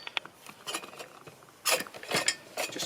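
Combination spanner undoing bolts on a chainsaw mill frame, giving a few soft metallic clicks and ratchety scrapes, quiet and close, with a louder cluster of clinks partway through.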